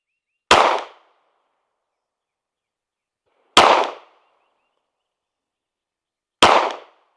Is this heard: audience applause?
no